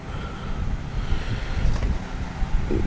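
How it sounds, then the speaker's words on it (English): Wind gusts buffet the microphone outdoors beside an Oklahoma Joe's Bronco smoker in low, uneven rumbles, fairly loud and continuous, with no voices present. "it's kind of windy right now"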